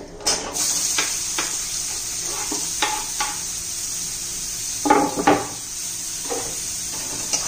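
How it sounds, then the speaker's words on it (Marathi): Chopped onion sautéing in a pan for a bell pepper dish, a steady close sizzle broken by several sharp scrapes and clacks of a spoon stirring against the pan. "कांदा चांगला आपण परतून घेऊया"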